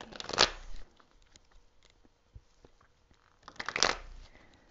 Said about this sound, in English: Wait, let me shuffle again.